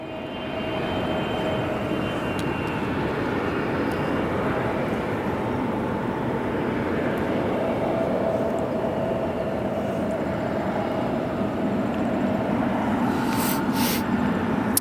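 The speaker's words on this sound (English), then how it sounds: "Our Turkish Airlines starting to make a move." Turkish Airlines Boeing 777 taxiing at Chicago O'Hare, a steady loud jet engine drone with a faint whine, continuous and without talk, with brief clicks near the end.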